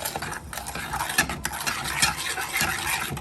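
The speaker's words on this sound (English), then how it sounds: "So we're just gonna keep mixing this" Scraping and stirring of corn flour being mixed into a lemon and lime meringue mixture in a bowl, a steady close clatter of utensil against the bowl with no talking.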